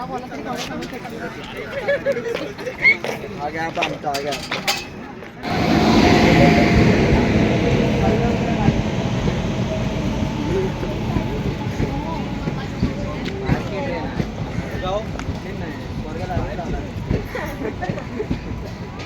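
Diva–Roha local train running, a continuous rumbling and rattling ride noise that rises abruptly and holds steady, with people talking over it throughout.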